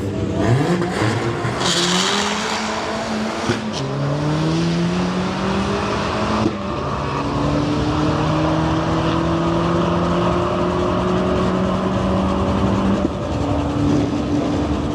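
A Nissan Micra and a Fiat launch down the Santa Pod drag strip, loud engines rising in pitch through successive gear changes, one long continuous roar close by with no voices.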